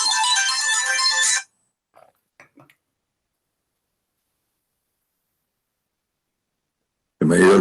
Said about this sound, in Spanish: Me había olvidado apagar el teléfono.